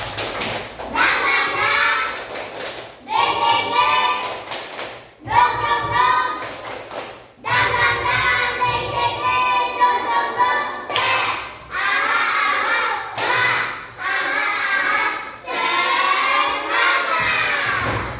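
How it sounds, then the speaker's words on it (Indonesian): A group of schoolchildren in a classroom performs a rhythmic spirit clap, bursts of patterned clapping with shouted chanting, repeated in several loud rounds separated by short pauses. "Tepuk semangat."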